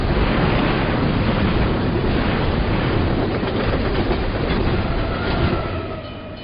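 A burning runaway train roars past up close, a broad rushing rumble with rhythmic wheel clatter that holds loud, then begins to fade at the end.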